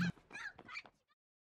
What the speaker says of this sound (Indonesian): si kakek sampai rumah merasa heran karena ada anjing terus menggonggong